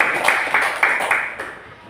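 Brief classroom applause for a student group, a few sharp claps over roughly a second and a half that thin out and fade quickly, close and fairly loud.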